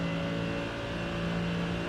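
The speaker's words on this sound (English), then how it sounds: "The meaty sound of the Mustang is all just exhaust." A steady, droning Mustang engine and exhaust hum in a racing simulator, with a low, throaty tone holding constant throughout, like a car cruising at even revs.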